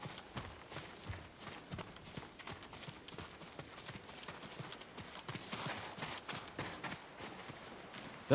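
Horse hooves clip-clop in Ghost of Tsushima, with quick, uneven hoofbeats at a walk or trot continuing throughout, fairly faint under a soft ambient background.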